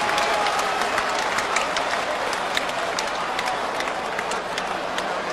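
A packed Blaisdell Arena crowd roars and applauds steadily after a mixed martial arts bout between Robbie Lawler and Nico ends by TKO in round two. The dense, continuous crowd noise fills the whole stretch.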